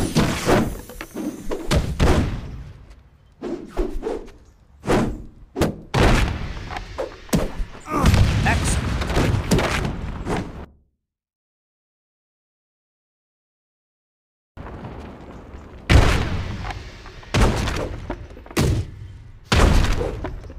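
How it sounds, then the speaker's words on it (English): Fighting-game impacts from Kung Fu Panda: rapid bursts of thuds, slams and whooshes in quick combos, loud and close, broken by a few seconds of silence before another flurry. "fast, strong attack combo"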